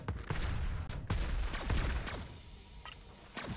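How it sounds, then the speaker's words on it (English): Missiles fire in the sci-fi space shooter Xenoraid on Xbox One, rapid loud bursts of blasts in quick succession that thin out toward the end. "This is basically missiles I'm shooting."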